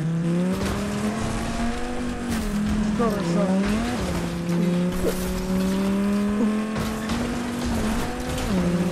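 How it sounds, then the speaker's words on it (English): A race car engine in the Fortnite video game, with a steady buzzing drone that dips and climbs through repeated shifts and short tire squeals, while people talk over it. "My favorite thing about it is the engine sound."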